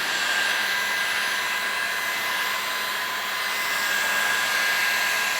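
Heat gun blowing steadily on vinyl wrap over a car's front bumper, a loud, even whooshing roar held close and continuous throughout.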